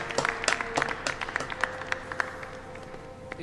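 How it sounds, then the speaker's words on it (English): A small audience at an informal sharing gathering gives a speaker a light round of clapping, with scattered, quiet claps over a steady background hum that thin out and fade after a couple of seconds. "give him a little clap."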